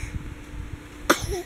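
A single short, sharp sneeze bursts out close by against quiet household background, ending a moment of calm.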